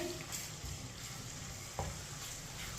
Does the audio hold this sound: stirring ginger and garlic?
yes